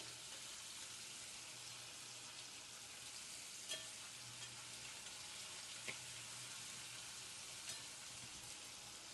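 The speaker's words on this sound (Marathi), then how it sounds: "काप करून घेतलेलं पनीर यामध्ये सोडून देते तेलात. तेलात आता हे तळून घ्यायचे." Sliced paneer pieces fry in hot oil in a kadhai on the gas, giving a steady, soft sizzling hiss with a few faint clicks and no talking.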